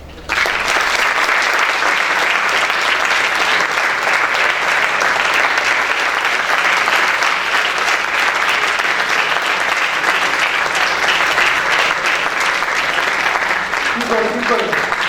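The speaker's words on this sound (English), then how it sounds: "let's start with a huge round of applause for each and every one of you here" A large audience at a BITS Pilani campus event claps in a long, sustained round of applause, dense and loud from start to finish with faint voices mixed in near the end.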